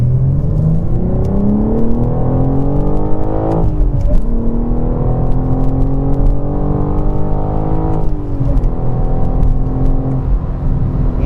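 2021 BMW G82 M4 with the S58 twin-turbo inline-six accelerating hard, its engine note rising steadily through the gears with two clear upshifts, loud and continuous from inside the car.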